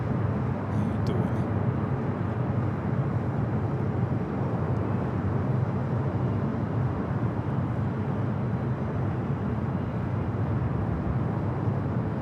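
An airplane on short final to runway 24 right at LAX gives a steady, loud, broadband roar that barely changes through the whole stretch.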